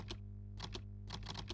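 Quick bursts of computer keyboard typing, clusters of crisp key clicks separated by short pauses over a faint steady hum.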